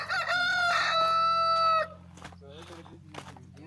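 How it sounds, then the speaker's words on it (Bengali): A large village rooster crows loudly and nearby in a long, drawn-out call, followed by softer clucking and farmyard noise over a steady low hum. "মোরগগুলো এই দেশের দেখলে খুব ভালো লাগে,"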